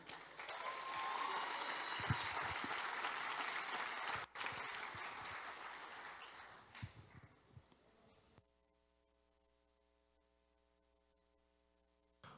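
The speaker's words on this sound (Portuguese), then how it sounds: "Uma salva de palmas ao pastor Davi" A church congregation gives a round of applause for Pastor Davi, sustained clapping that fades out over several seconds, followed by near silence with a faint hum.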